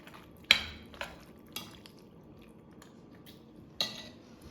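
Penne being stirred with pesto in a pot, a few sharp clinks of a utensil against the pot followed by soft scraping and mixing, fairly quiet and close.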